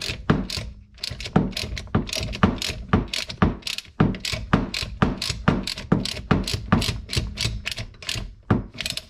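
Rapid ratchet wrench clicking, fitted with an extension, while backing out the oil pressure sensor on a 2008 Dodge Avenger 3.5L. Bursts of dense metallic clicks repeat steadily and close up for the whole stretch, with no talk over them.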